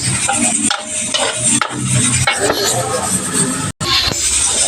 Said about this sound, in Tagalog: Bilis ang haloon ko guys.